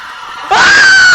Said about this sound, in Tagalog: Sino ba yung sumigaw kanina?